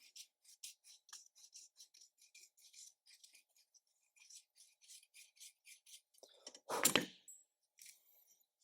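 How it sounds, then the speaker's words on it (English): Fine file strokes rasp a small ring model in a quick, regular series of faint scratches, with one louder knock near the end and no talk. "Little contour filing."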